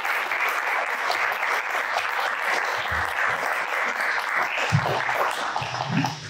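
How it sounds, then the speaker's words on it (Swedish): Seminar audience applauds a panel being welcomed, a warm, full, continuous wash of clapping from many hands in a room, steady throughout with a few low thumps of movement. "En varm applåd för Malin Fremström, Anna Stenvinkel, Rosalind Barbine och Shahab Ahmadien"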